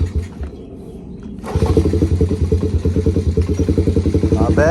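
A Honda CRF70 dirt bike with the choke on is kicked over and catches, changing from a low, uneven churning into a loud, fast, even small-engine putter that carries on close by, with a brief voice near the end.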